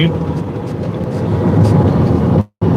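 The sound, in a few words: airplane flying overhead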